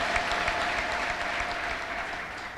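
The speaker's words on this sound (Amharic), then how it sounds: "ከዚህ በላይ አጨብጭቡ አጨብጭቡ" Church congregation at a prophet's healing service applauding steadily, a dense, sustained wash of many hands clapping at moderate distance, with no talk over it.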